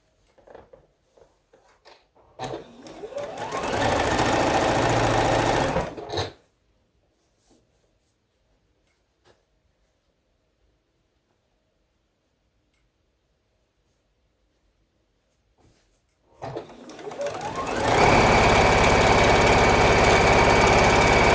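A sewing machine stitches a long quilt row in two loud, sustained bursts, each starting and stopping abruptly, with a quiet pause in between.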